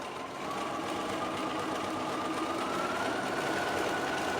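A sewing machine zigzag-stitching a seam finish on fabric runs as a steady, continuous mechanical whir with no pauses for several seconds.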